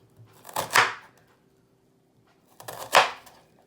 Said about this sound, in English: I'm going to cut my slices large because I like a little more rustic skillet potato.